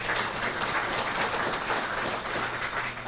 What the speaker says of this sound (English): Bob, let's go ahead and give him a round of applause.